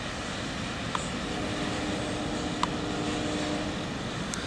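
The tail end of Norfolk Southern 218, an intermodal freight train, rolls past the control point at Hurt, a broad steady rumble of rail cars with faint squeals and clanks.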